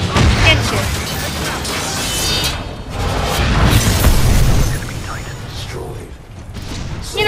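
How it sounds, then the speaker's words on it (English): An enemy titan blows up in the shooter Titanfall 2: heavy booming blasts and crashing debris with mechanical clatter, loud and close, rolling over several seconds under a voice talking. "Enemy titan destroyed."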